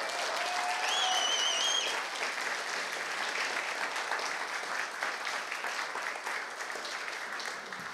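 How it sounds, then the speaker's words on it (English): Steady, dense applause from an audience fills the room at a capstone performance for a youth music fellowship program, holding at a constant level throughout with a few whistles near the start. "Can we give them one more round of applause?"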